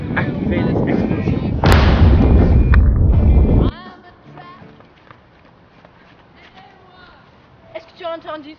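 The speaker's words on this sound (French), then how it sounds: "Activez les explosions." A loud, sustained rumbling barrage of explosions and blasts for several seconds, then a sudden cutoff into quiet background with faint movement sounds.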